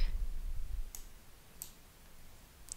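A computer mouse clicks once to send a request, two further crisp clicks following at roughly even intervals, faint and close in a quiet room with no talk.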